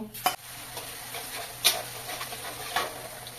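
Chopped onions sizzle in hot oil with bay leaves, cinnamon and whole black peppercorns, a constant close frying hiss punctuated by three sharp spatula scrapes against the pan.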